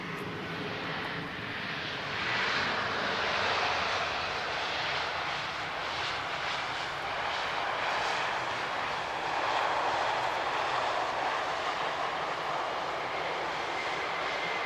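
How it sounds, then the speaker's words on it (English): An Airbus A320 jet engine roars at Lisbon Airport, a steady broadband rushing drone that swells and fades slightly as the airliner passes at moderate distance, continuous for the whole stretch. "That's an A320, of course."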